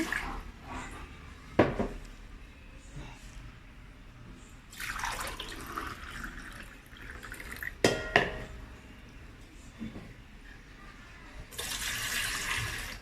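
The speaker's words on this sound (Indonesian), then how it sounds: "ini air sekitar 2 gelas air buat ngerebus agar-agar ya guys" About two glasses of water poured into a pot to boil agar-agar in a home kitchen: short bursts of splashing pouring separated by clanks of the pot and utensils, ending in a steady rush of water.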